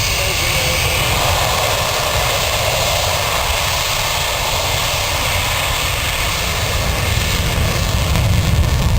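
Avro Vulcan XH558 delta-wing jet bomber in a flying display at RAF Waddington, a loud, continuous roaring howl of its engines sustained throughout and swelling slightly at the end.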